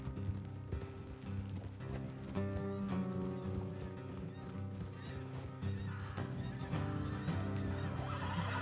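Horses whinny and hooves clop steadily beneath a continuous bed of music in the video game Red Dead Redemption 2, with no talking.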